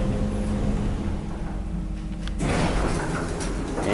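An old, worn elevator of unknown brand in Brownsville, Texas slides its door open, a steady motor hum giving way at mid-clip to a broad rushing, rattling swell as the door parts, close and moderately loud with no talk.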